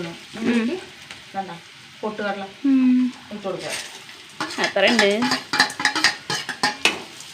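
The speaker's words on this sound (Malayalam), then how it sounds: "ഉള്ളി മുളകൊക്കെ വഴണ്ടി" Onion and chilli sizzle in a pan beneath almost continuous talk, with occasional clatter of a utensil against the pan's metal.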